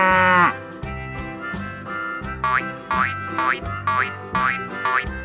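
A farm cow mooing among bouncy cartoon boing effects in a children's animal-sounds sequence: sustained tonal lowing mixed with repeated springy, pitch-bending twangs, loud and steady, with no speech.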